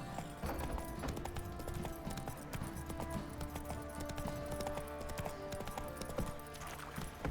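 Horse hooves clip-clop at a steady trotting rhythm in The Witcher 3, loud and close over a dense bed of game music and ambience, with a brief spoken voice.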